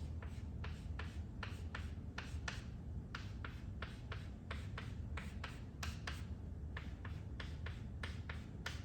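A physics diagram of a uniform magnetic field, drawn by hand with crosses on a writing surface, gives a steady run of short, crisp pen or marker strokes in quick bursts. The strokes are close and moderately loud, and there is no talking.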